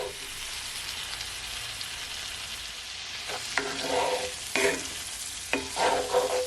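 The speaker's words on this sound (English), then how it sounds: "Now I'm gonna add my steak bites." Garlic butter steak bites frying in a pan: a steady sizzle throughout, with scraping stirring strokes of a utensil in the second half, close and clear.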